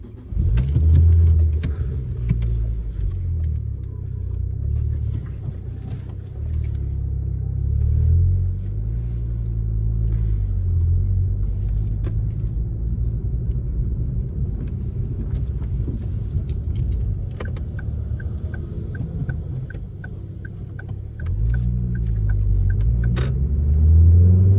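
A Ford Focus ST Mk2 drives along with a steady low engine rumble and road noise, a few light jangling keys rattling inside the cabin throughout.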